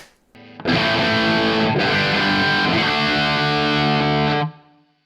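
Sustained distorted electric guitar chords through a Neural DSP Quad Cortex ringing out for several seconds with a spacious reverb wash, then cutting off and fading.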